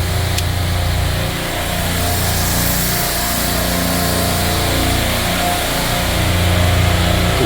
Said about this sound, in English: Compressor number 1 is on. Gonna do compressor number 2.